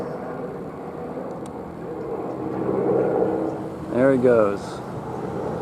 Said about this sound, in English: Your taxes for police helicopters.